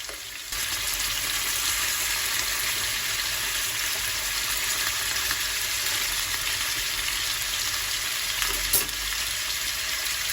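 Chicken pieces fry lightly on a stovetop in plenty of oil, giving a continuous close sizzle that holds steady for the whole stretch, with one brief clink near the end and no speech.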